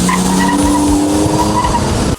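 A 1987 Buick Grand National's tires squeal in a loud, sustained skid lasting the whole stretch, with engine roar underneath and an abrupt cutoff at the end.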